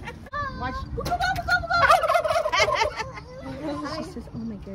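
A turkey gobbles close by in a rapid, warbling burst lasting a few seconds, loud and alone before tapering into softer clucks.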